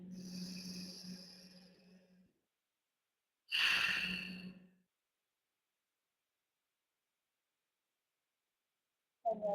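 Two deep breaths during a guided breathing exercise, a long sighing exhale followed by a shorter, louder breath after a pause, close to the microphone, with a brief sound cut off at the end.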